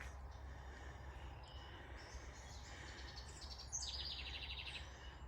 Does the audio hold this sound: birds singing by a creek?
yes